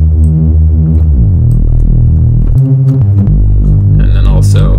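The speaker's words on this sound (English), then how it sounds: "grab two saw waves, turn them both down an octave." Reese bass built from two saw waves dropped an octave and detuned against each other, a loud, sustained buzzing low drone whose pitch steps change through the passage, with a brief brighter chopped section near the end.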